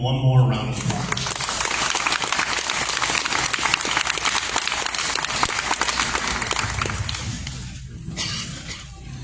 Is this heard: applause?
yes